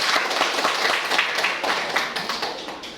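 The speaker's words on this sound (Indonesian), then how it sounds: "Kita berikan aplaus kepada mereka." Applause from a classroom of students after a group finishes its presentation: a dense, even patter of many hands clapping at once, close and full, holding steady for a few seconds before easing slightly.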